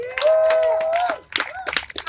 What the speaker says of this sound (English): clap it up for each other